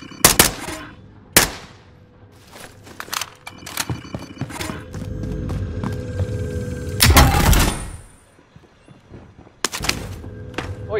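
Gunfire from a video game rings out as loud, sharp individual shots and short bursts, some close and punchy and others quieter, with scattered clatter and rumbling between them.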